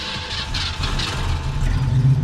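A Jeep engine, with a rusty oil pan, revs as the gas pedal is pumped, a steady low rumble that swells and surges toward the end, close and fairly loud with no talk over it.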